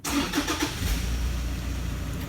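A car with push-button start cranks and catches, a brief starter whir settling into a steady low engine idle, close and fairly loud with no talk.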